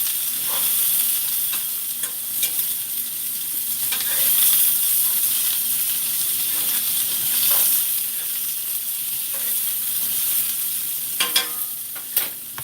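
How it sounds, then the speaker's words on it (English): Yellow beans frying in a pan with sausage, a steady close sizzle that persists throughout with occasional stirring scrapes and clinks near the end. "And we're gonna give them a little bit of a fry"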